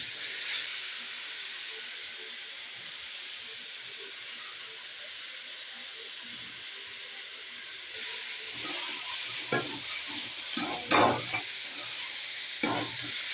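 Ponnanganni greens stir-fried in a pan on the stove, a steady soft hiss of sizzling throughout, with louder scraping and stirring clatters breaking in near the end.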